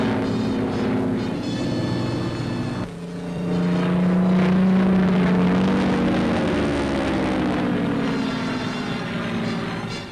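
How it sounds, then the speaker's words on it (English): Corsair and Barracuda carrier aircraft taking off from a Royal Navy carrier in the Far East: a loud, continuous propeller engine roar with a rising, droning pitch that swells midway and stays steady throughout. "Our picture shows corsairs and barracudas taking off."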